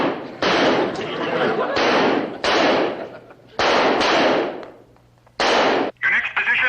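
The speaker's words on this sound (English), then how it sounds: "Assume the position and fire when ready." Rifles fire in a series of loud, sharp bursts on a firing line from the standing position, roughly five separate blasts with short gaps between them, the last ones coming close together.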